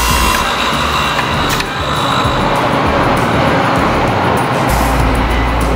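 A saw chain sharpening machine runs with a loud, continuous mechanical whir and hiss, steady throughout with slight shifts in tone.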